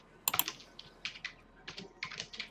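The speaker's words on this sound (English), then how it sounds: "I can hear you typing." Quiet typing on a computer keyboard, with irregular clusters of soft key clicks and a couple of sharper taps near the start, heard alone.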